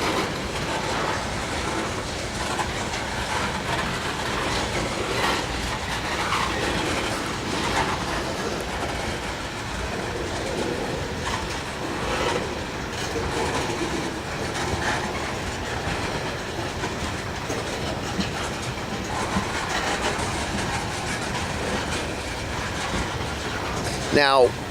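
A Norfolk Southern manifest freight led by three Dash 9 locomotives rolls slowly past Duke, giving a long steady rumble with continuous wheel clatter and rail noise at moderate distance.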